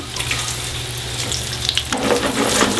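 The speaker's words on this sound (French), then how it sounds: "L'huile est chaude, escalope de la poêle. On laisse cuire tranquillement comme ça." Veal escalopes fry in hot vegetable oil in a pan, producing a loud, continuous crackling sizzle that grows busier and brighter partway through. No one speaks.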